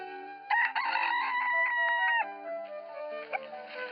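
On a farm, a rooster crows a long, loud cock-a-doodle-doo, followed by softer clucking from chickens nearby.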